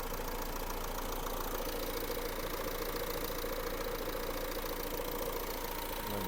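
A 2018 Renault Megane engine idles in a steady, continuous mechanical drone with an even low hum and no revving, heard close and alone without any voices.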